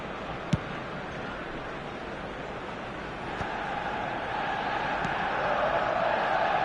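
A stadium crowd in the football game eFootball 2026 roars as a constant wash of distant noise, swelling gradually toward the end, with a brief sharp knock near the start.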